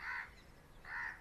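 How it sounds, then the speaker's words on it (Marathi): Two harsh caws from a crow, spaced apart, clear against a quiet background. "तर त्या कावळा आवाज येत असेल तुम्हाला कावळ्याचा"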